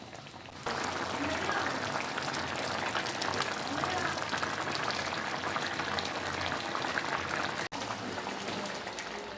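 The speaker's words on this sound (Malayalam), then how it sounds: "ഇനി ഇത് തുറന്നു വെച്ചിട്ട് നമുക്കിതിൻ്റെ വെള്ളം വറ്റിച്ചെടുക്കാം" Sardine fish curry simmering uncovered in a pan, a steady dense bubbling hiss close up that runs unbroken for several seconds, with a brief dip near the end.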